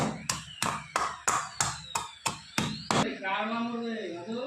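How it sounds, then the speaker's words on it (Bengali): Eleven sharp, evenly spaced thuds of a stone pounding garlic on a stone grinding slab, followed by a brief spoken voice as the pounding stops. "একটা শিল নোনায় রসুনগুলো আমি থেতো করে নেব এরম করে থেতো করে নেব"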